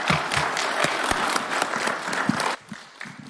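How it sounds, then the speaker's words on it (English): Audience applause for the president at a Last Mile Connectivity launch event, a strong round of clapping from a large gathering that cuts down abruptly near the end to a few scattered claps. "Another round of applause for His Excellency."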